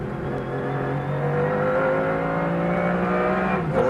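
An IMSA Camel GTP prototype race car, the Data Storm entry, at Road Atlanta in 1992, howling at high revs in a sustained, steadily rising whine heard loud and close without speech.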